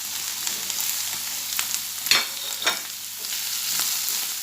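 Onion and pepper sizzle softly in a pan while being stirred, with a steady frying hiss and a few sharp scrapes of the spoon against the pan, no voices.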